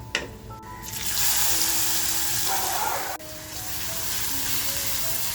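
Chopped onion tipped into hot oil with garlic for a prawn and spinach dish, a sharp hiss rising at once into a steady close sizzle that dips briefly midway, then resumes as the pan keeps frying.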